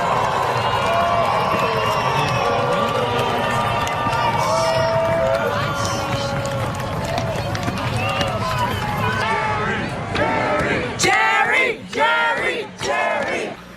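A large graduation crowd cheers and yells for Jerry Seinfeld in a dense, loud roar of many voices that carries on throughout, with sharper shouts rising near the end.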